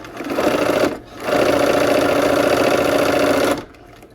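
A sewing machine stitches a quilt seam in a loud, steady mechanical whir, running in a short burst, pausing briefly, then a longer continuous run before stopping, with no talking.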